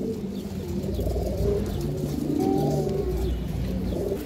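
Small pigeons coo steadily in a loft, soft low burbling calls repeating close by with a constant background rumble and no talk.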